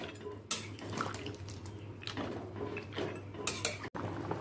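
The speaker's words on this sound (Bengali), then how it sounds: "এই সময় দিয়ে দিচ্ছি সেদ্ধ করে নেওয়া সবজি।" Boiled vegetables and bori being added to a pan of shukto, with clattering utensil knocks and scraping against the pan in uneven bursts, close by.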